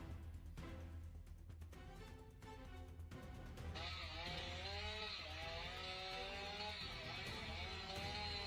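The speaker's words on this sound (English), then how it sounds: "A lumberjack makes a cut, but suddenly, the chainsaw gets stuck in the tree." A chainsaw cuts into a tree, its engine revving loud and steady after a rougher, lower start, then dipping and straining as the bar binds in the wood.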